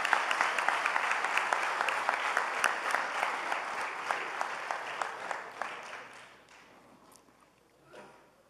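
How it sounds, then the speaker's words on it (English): An audience at a high school basketball awards banquet applauds the team with steady, dense clapping that thins out and fades to a few scattered claps. "So please give them a big round of applause."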